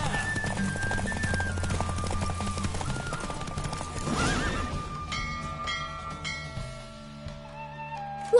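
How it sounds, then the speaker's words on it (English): Galloping horse in The Witcher 3, with rhythmic hoofbeats and a loud whinny over game music and ambience, followed by a string of clip-clops. "Don't spare the horse! I adore the speed, the rush of air!"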